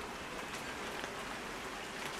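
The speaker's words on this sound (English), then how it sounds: "I'm getting wet. It's raining." Rain falling outdoors over a covered area with winter succulents, a dense, steady hiss of drops that stays close and even throughout, with no voices.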